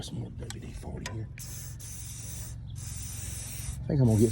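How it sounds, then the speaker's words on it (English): WD-40 lubricant hisses from an aerosol can onto a corroded shaft on a John Deere 24T square hay baler, two sustained close sprays after some brief clanks, with a low hum underneath and a voice at the end. "Spray it with some more WD-40 here."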